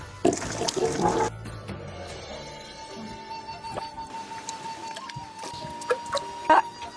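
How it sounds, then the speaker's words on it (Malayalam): Water is poured over peeled tapioca to wash it, a short loud splash and gush at first, followed by quieter trickling and scattered clinks and small background sounds. "പൂളക്കിഴങ്ങൊക്കെ തൊലിച്ച് ക്ലിയർ ആക്കിയിട്ട് വെള്ളം ഒഴിച്ച് കഴുകി കൊടുക്കാം"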